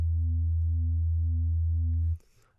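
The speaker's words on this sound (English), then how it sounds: "you can see it kind of starts to give the sine wave a bit of movement here" A low synth sine wave from the Vital synthesizer with subtle formant scaling holds a steady, loud bass tone for about two seconds, then cuts off abruptly into faint noise.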